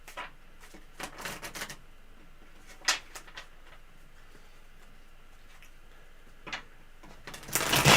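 Tarot cards being shuffled by hand give scattered bursts of crisp riffling and tapping, soft and close, with a louder flurry at the end.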